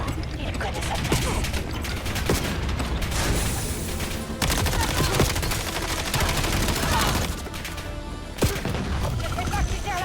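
Gunfire in Call of Duty Black Ops 7, heard as dense bursts of automatic shots mixed with mechanical ratcheting and clanking of a turned crank, loud and continuous through the whole stretch.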